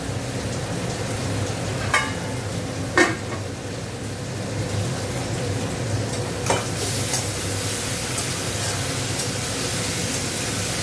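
Four green chillies frying in a pan give a steady, close sizzle and crackle, with a few sharp spatters and light stirring scrapes over the hiss and no one talking.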